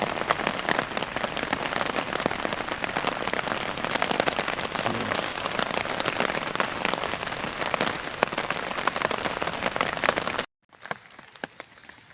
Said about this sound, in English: It's still raining heavy, so I'm just chilling out in the hammock until it clears a bit